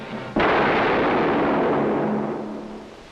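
A single loud gunshot cracks out in a 1962 drama film, a sharp broadband blast followed by a long rumbling decay with a low hum beneath.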